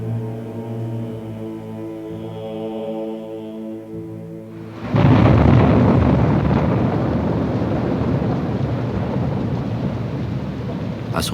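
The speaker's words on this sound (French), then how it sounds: "l'obscurité profonde où l'orage gronde à nouveau" A thunderstorm in a French audio drama about Galahad and the Grail: soft tonal music gives way halfway through to a sudden, loud, sustained rumble of thunder over heavy, hissing rain that carries on to the end.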